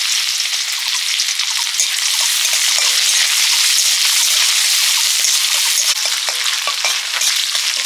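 Chopped onion fries in hot oil with a tempering of five-spice, dried red chilli and bay leaf for dal ghonto. The sizzle is loud, close and continuous, broken by faint stirring scrapes, with no talking.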